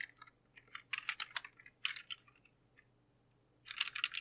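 Quiet clusters of computer keyboard typing while writing HTML and CSS code, short quick bursts of clicking keys separated by pauses, over a low electrical hum.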